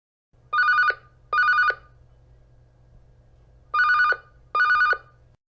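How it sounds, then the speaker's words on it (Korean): Old-style landline telephone bell ringing in a boarding house, two double rings with a pause between, loud and close with a low hum underneath. "진섭 씨는 겁이 났지만 전화를 받았습니다"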